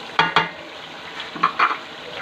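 Chicken and potatoes stirred through spices in a hot pan, with a spoon scraping and clinking against the pan in a few distinct strokes over a soft sizzle.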